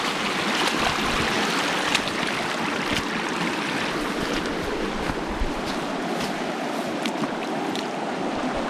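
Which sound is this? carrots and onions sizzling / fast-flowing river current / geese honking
fast-flowing river current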